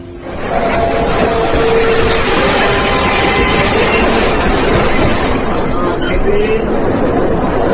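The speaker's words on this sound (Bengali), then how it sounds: "ট্রেন এলো 10 মিনিট লেটে।" A train pulls into a station with loud rolling rumble and high metallic wheel squeals rising over the noise, continuous and close for several seconds.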